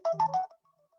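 A phone rings during an online meeting: a short, clear ringtone melody of three quick tones, fairly close and alone, fading into near silence.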